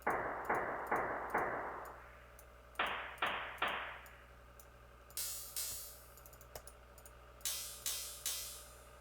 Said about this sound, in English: If you just stretch the hi-hat, actually, like this